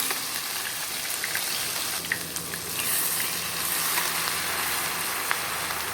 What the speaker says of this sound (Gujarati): અહીંયા ગેસની ફ્લેમ આપણે લો કરી દેવાની છે અને આદું મરચાં લસણને સરસ રીતે સાંતળાવવા દેવાના છે